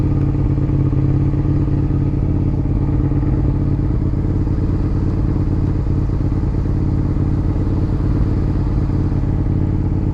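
Motorcycles and traffic rumble steadily through a city street in Amiens on a sunny day, a continuous loud engine drone with some clatter and no clear single pass-by.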